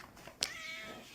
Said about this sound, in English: And here's our fat-ass cat.